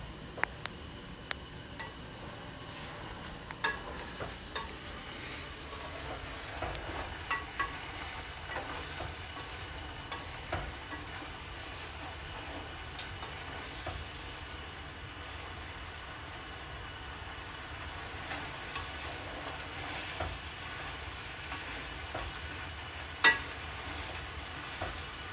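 Tofu curry with moji masala bubbling and reducing in a pan, a steady low simmer of soft pops and sputters that continues throughout with no talking.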